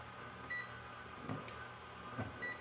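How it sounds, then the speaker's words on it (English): A microwave oven heating a half cup of coffee gives off a low, steady hum close by, with faint clicks and short tonal blips over the drone. "I'm going to throw this in the microwave real quick"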